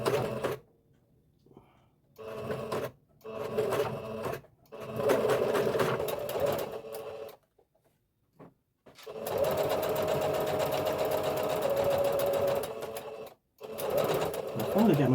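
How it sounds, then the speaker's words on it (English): A sewing machine stitches and backstitches in several close bursts of rapid mechanical chatter, starting and stopping, with the longest run lasting a few seconds. "I finally got my sewing machine to sew a little faster."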